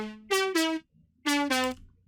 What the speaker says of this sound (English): Without any effects, the leads sound like this.